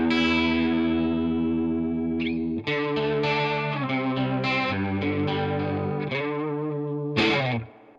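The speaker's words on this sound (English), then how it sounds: "It sounds like a chorus pedal trying to do a rotary sound." Electric guitar through a Keeley Halo delay pedal set for a wobbling chorus-like rotary effect, playing sustained chords and notes that shimmer and swirl, moderately loud and alone.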